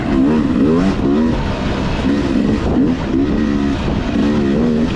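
A Beta 300RR two-stroke dirt bike ridden along the Tomahawk trail, its engine revving loudly and close, rising and falling in pitch with each throttle blip over rough ground.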